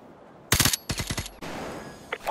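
Gunfire from the Call of Duty: Modern Warfare 2 Campaign Remastered video game rings out in a loud rapid burst, then several separate sharp shots, followed by a lingering hiss and a faint final click.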